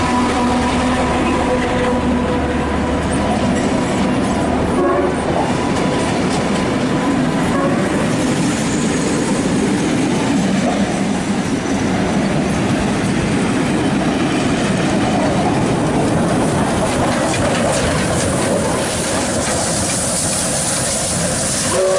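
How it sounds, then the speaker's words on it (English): Locomotives GL109 and 6029 roll through platform 3 at Tempe station heading back toward Central, a loud sustained rumble of wheels and engines with clickety-clack and hissing that stays steady for the whole stretch. "We have GL109 and 6029 now passing platform number 3,"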